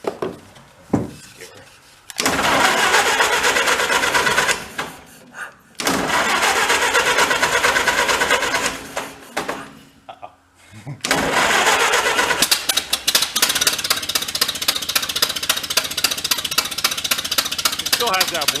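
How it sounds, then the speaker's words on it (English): An old 1931 Ford barn-find engine with a blown manifold gasket cranks and fires several times, catching after brief stalls and then running steadily with a loud, rough, rattling idle close to the microphone. "Let's go fire her back up again and see how she sounds."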